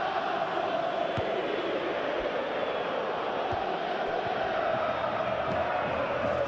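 Steady crowd roar from a simulated stadium in a football video game, Atletico Madrid against Arsenal, a dense continuous wash of cheering and applause with no talk over it.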